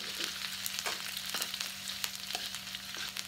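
Forest fern vegetables (pakuk remudang) frying with belacan shrimp paste in a pan, giving a steady close sizzle with brief crackles and the occasional stir, and no talking.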